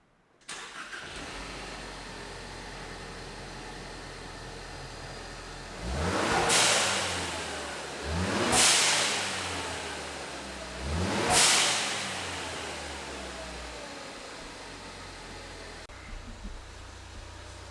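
Ford Focus ST fitted with a Turbosmart blow-off valve, starting up and then revving three times with a loud turbo whoosh on each release, settling back to a steady idle between rises.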